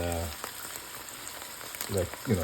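Okra frying in a pan for a tomato stew, a soft steady sizzle with faint crackles, interrupted at the start and end by brief voices.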